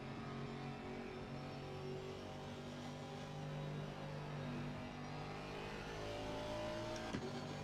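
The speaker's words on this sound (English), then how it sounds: "When you've got the sound of the engine in your ear." A race car engine in Assetto Corsa Competizione at the Barcelona circuit holds a steady, droning note for several seconds, heard faintly and at an even level, with a brief bump near the end.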